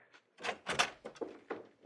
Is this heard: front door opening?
yes